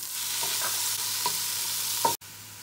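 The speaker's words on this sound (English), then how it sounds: "now we add in our garlic and we mix it together, and then we add in our tomatoes" Tomatoes tumble into a pan of sautéed wilted peppers and garlic and get stirred, a steady sizzle running throughout with a few soft scrapes and one sharp clack near the end.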